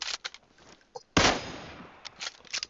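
Gunfire in the mobile battle-royale game PUBG Mobile: one loud broadband burst stands out with a decaying tail, among shorter softer clicks and pops, with no talk.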